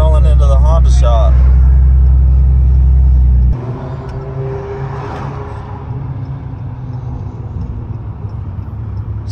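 A car rolls into a Honda dealership, its low engine rumble loud and steady, with a voice talking over it early on before the drone settles into a quieter, continuous hum.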